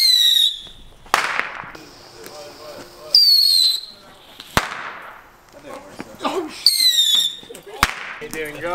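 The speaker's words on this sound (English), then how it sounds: "I need some bottle rockets." Bottle rockets launch and burst outdoors, each one starting with a whistling shriek and ending in a sharp bang. The whistle-and-crack pattern repeats several times at close range, with shouting voices in between.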